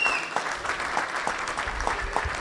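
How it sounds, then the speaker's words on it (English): Conference audience at a Detroit cybersecurity event giving a round of applause for sponsors, a full, continuous patter of many hands with scattered louder claps close by. "And then how about a bigger round of applause for all of our sponsors"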